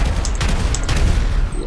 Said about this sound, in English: Dude, that's explosive ammo.